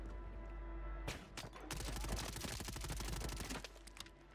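Rapid bursts of automatic gunfire in the Warzone video game, dense repeated cracks over a steady low game rumble, starting abruptly and continuing for several seconds before easing off.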